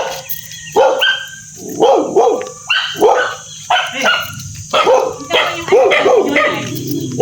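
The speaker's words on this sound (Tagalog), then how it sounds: "Yung aso." A dog barks repeatedly at close range, a series of sharp, separate barks with short pauses between them.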